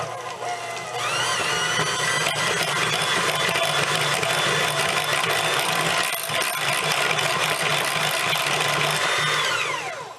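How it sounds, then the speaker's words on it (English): An electric hand mixer whirs steadily in a bowl of lemon zest, dill and salt for an asparagus tart, a continuous close motor whine that holds its pitch and then winds down at the end. "I'm going to go ahead and use a hand mixer to get this stuff blended together"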